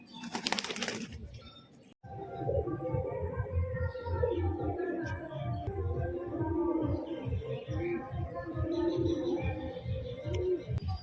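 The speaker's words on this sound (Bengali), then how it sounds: "শ্বেত পায়রা, নর আর মাদি, দুই জোড়া সেট দেখলেন।" White pigeons, male and female pairs, coo steadily in low, throaty, overlapping phrases, close by and continuous, with a brief flutter of wings at the start.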